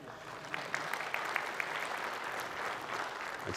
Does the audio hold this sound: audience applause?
yes